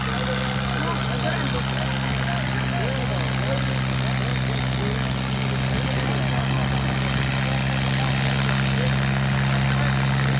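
A Sonalika 745 tractor engine pulls at a tractor competition, a continuous loud droning hum with steady low harmonics throughout, under crowd chatter and voices.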